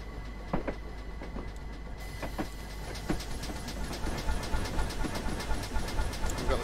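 GWR pannier tank steam locomotive running in Train Simulator 2019, with steady rhythmic chuffing and clickety-clack of wheels over rail joints, building in intensity through the run over a constant rumbling background.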